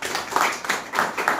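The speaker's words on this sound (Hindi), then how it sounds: "ताली बजाए आप लोग" A small audience at a Hindi church service claps in a few scattered bursts, close by and moderately loud, with short gaps between the claps.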